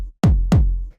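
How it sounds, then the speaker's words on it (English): Two dry 909-style kick drum hits, each a punchy click falling into a deep, short boom, played close and alone with a brief gap between them. "This sort of like 909 style kick"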